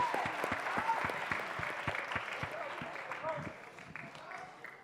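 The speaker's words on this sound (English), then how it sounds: "Let's give the teachers a round of applause." Audience applause for teachers at a youth opening forum in Philadelphia, a steady wash of many hands clapping in a large room, holding fairly even and easing slightly toward the end.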